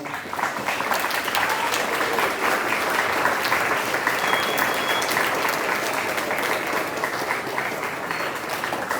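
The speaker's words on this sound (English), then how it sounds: "students, can y'all please give your parents a round of applause?" Students at a school band fall concert give their parents a loud, sustained round of applause, dense clapping from a large crowd filling the whole stretch without pause.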